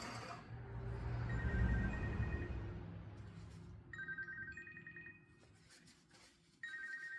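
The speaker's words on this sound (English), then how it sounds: "My phone's ringing." A phone rings in a garage-style workshop during CRF250F dirt bike fork spring work, with a trilling electronic ringtone repeating in bursts over a steady low background hum.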